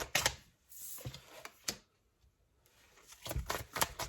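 Tarot cards being shuffled in several quick riffling bursts, with brief pauses between them; no talking.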